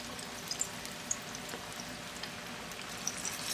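Chicken, potato and spinach pakoras fry in hot oil, giving a steady, fairly quiet crackling sizzle with a few small pops throughout.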